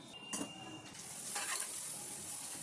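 Turmeric is stirred into a tomato and boti curry in a pan: a quick scrape of the spoon, then a steady sizzling hiss that swells and holds to the end.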